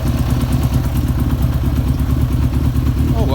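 Yamaha XJ600 motorcycle engine running steadily up close, with a loud continuous mechanical clatter from the valve rockers over a rumbling idle, alone without talk.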